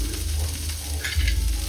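Onion and green chili fry in sesame oil with a dense, steady sizzle that holds close and fairly loud throughout the short stretch, with no speech over it.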